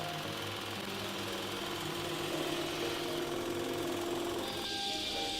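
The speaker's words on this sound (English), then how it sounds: "Okay, you're putting it through the sander now to get it all flat." A wood sander runs steadily to flatten an end grain glue-up for a jewelry box, with a continuous close mechanical drone and a shift in tone near the end, no talk.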